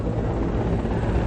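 A relief-supply helicopter flies to an earthquake zone in Yunnan, its rotor and engine producing a loud, steady roar with a low throb that fills the short stretch alone.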